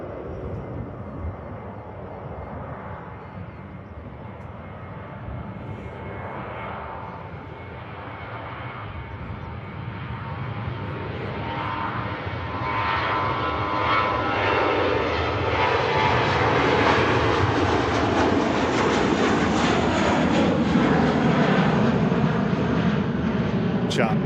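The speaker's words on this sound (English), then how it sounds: "Getting ready to depart. Back out to Frankfurt is Lufthansa." Departing Manchester for Frankfurt, a Lufthansa jet airliner spools up from a moderate whine into a swelling, rising engine roar that grows louder and closer over about twenty seconds, with people talking underneath.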